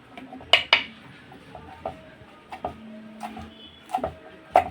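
A knife cuts finely through rolled colocasia (alu) leaves on a board, giving a few sharp, close taps and clicks spaced irregularly over quiet kitchen background.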